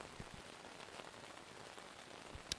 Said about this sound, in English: The sound of the rain continues, but now it feels far away